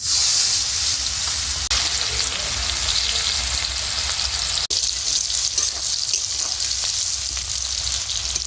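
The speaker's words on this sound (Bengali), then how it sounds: "এবারে একটা বড় সাইজের পেঁয়াজ কুচি করে নিয়ে তেলের মধ্যে দিয়ে দিচ্ছি" A big chopped onion fries in plenty of hot oil after fish and eggplant were fried in it, giving a steady, close, loud hiss and crackle with a couple of brief clicks.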